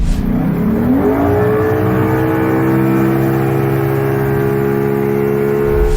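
A two-stroke outboard motor on a boat runs loud and steady, its pitch rising at first and then holding at a high, buzzing drone for several seconds.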